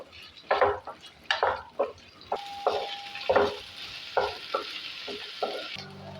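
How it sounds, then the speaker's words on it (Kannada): Green chillies and spices fry in a pan while being stirred, giving bursts of sizzling scrapes in an irregular rhythm, then a steadier hiss as the stirring slows. "ಇದನ್ನು ಚೆನ್ನಾಗಿ ನಾವು ಫ್ರೈ ಮಾಡ್ಕೊಳ್ಳೋಣ"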